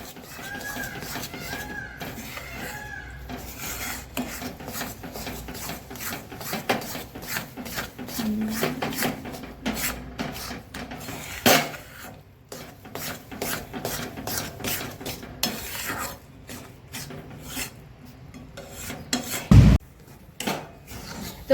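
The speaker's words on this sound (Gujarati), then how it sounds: "હવે આપણે ગેસ ઓફ કરી દઈશું અને પછી એમાં આપણે ગોળ એડ કરી દઈશું અને પછી પાછું બધું હલાવી લઈશું" A spoon scrapes and stirs jaggery into roasted bajra millet flour in a pan, a continuous gritty rasping with irregular scraping strokes and occasional louder knocks, close up and without talk.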